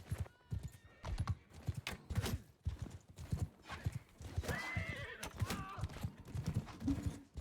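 Horses gallop during a video game battle, with rapid clip-clopping hooves and several whinnies and neighs rising over the clatter, loud and close with no voices.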